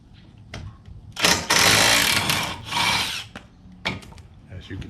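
A smaller impact gun loosening a brake caliper bracket bolt on a 2015 Mercedes CLA 250 during front brake work: two loud rattling bursts close by, the first longer, with brief tool clatter around them.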